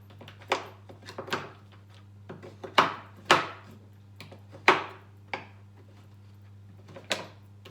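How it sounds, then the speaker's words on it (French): A knife coarsely chops large milk chocolate chips on a board for a gluten-free pecan brownie, giving a series of sharp, irregular knocks and cuts, close and fairly quiet over a faint steady hum. "On va hacher grossièrement."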